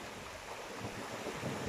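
Ocean waves break and crash against rocks along a shore where people swim, a steady broadband wash of surf with wind noise buffeting the microphone, moderately distant and continuous.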